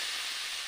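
Water hitting a hot pan of cumin and coriander spices for rohu fish curry, a brief, steady hiss of steam close by.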